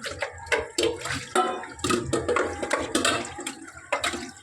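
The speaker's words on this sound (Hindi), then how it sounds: "बस ये धुल गए बर्तन और अब हम हो गए बर्तनों से रेडी।" Tap water splashing and running while dishes are washed in a sink, with clatters of utensils and pots knocking, close and lively, no talk.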